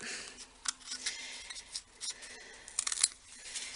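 Scissors snip through a Bendi fold card being trimmed down, giving a few quiet, crisp cuts spread unevenly over a few seconds, close by with no talking.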